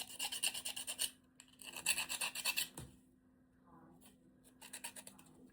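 A hand file rasps in short repeated strokes, removing small burrs from a craft wing piece, in two bursts of rapid scraping separated by a brief pause, with a quieter third burst at the end.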